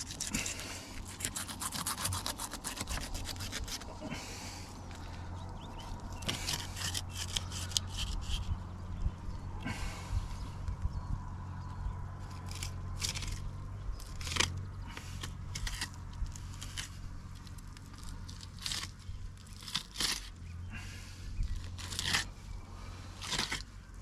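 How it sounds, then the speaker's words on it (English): A knife fillets a kingfish, slicing through the flesh and up the backbone: a long run of close, irregular scraping, crunching and ticking cuts, with no one speaking. "I'm going to take 2 slabs off and cut through the fillet here, and then up the backbone"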